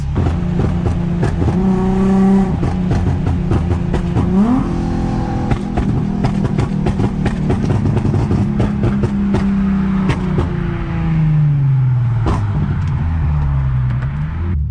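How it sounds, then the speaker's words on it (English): A car driven hard with its nitrous system switched off revs and accelerates through the gears, its engine note rising and falling, while sharp crackling pops and bangs burst repeatedly from the exhaust. The sound is loud and close throughout. "Let you guys hear some pops and bangs"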